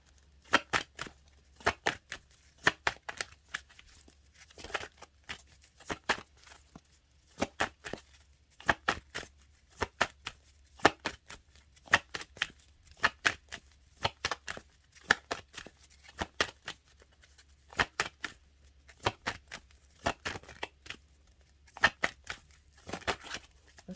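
A numerology oracle card deck being shuffled, a steady run of crisp, close riffling snaps and card slaps repeating in quick bursts throughout, with no talking.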